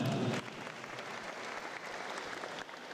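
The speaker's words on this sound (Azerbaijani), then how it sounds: "Onu da alqışlayaq." An audience at a Greco-Roman wrestling honoring event claps steadily, a dense burst at first that settles into softer, even applause, fairly distant and quiet.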